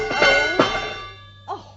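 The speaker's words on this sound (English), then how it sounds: "Tap the gong, will you, Grimsby?" A dinner gong in a period radio drama is struck twice in quick succession, each stroke ringing with long sustained metallic overtones, followed by a softer third tap as the resonance fades.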